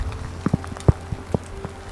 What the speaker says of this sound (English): And a little bit of rain is a part of that experience.